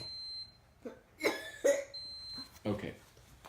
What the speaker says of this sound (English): you just coughed right in Dad's face